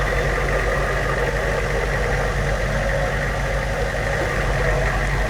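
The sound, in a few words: 6.2 truck engine idling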